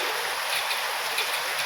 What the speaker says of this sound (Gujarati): સરસ મજાનો વરસાદ ચાલુ થઈ ગયો છે।